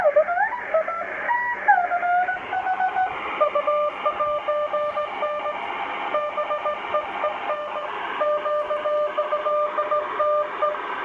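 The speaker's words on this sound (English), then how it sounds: "Just adjusting with our BFO here." A Grundig Satellit 3400 Professional shortwave receiver hums with steady tones and sliding whistles as the beat oscillator is tuned, dense continuous signal, fairly loud, no voices.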